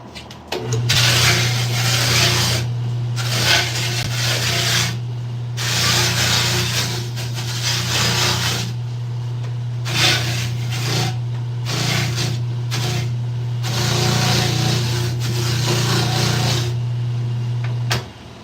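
A wooden skateboard deck is shaped and sanded by hand in a shop, with repeated rhythmic rubbing strokes in bursts and short pauses over a steady low hum, loud and close.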